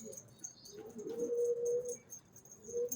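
Single pigeons cooing in a loft where the cocks and hens are kept apart, a soft low coo swelling near the middle and again at the end amid quiet rustling.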